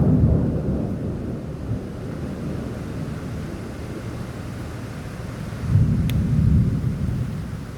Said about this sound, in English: that rain sounds amazing